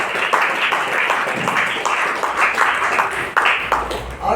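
An audience at a meeting claps in sustained, dense applause that runs loud and steady throughout, with some voices mixed in.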